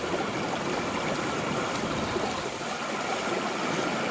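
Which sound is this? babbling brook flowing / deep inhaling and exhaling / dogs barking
babbling brook flowing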